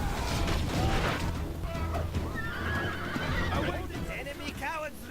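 Horses neigh and whinny amid a cavalry battle in the video game Rome Total War, several calls rising over a dense, continuous din of hooves and combat, with a voice talking.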